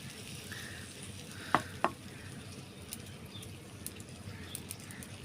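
Drumsticks (sajna) fry in a pan with a little water, a quiet steady sizzle with a couple of sharp utensil clinks and faint birdsong in the background.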